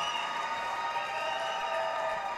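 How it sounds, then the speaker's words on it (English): A large crowd cheers and claps steadily in an arena as the Apple Valley girls' hockey team skates onto the ice for a high school section playoff game, a sustained roar with a high whistle-like tone. "Here comes Apple Valley out on the ice now. Apple Valley with a huge crowd."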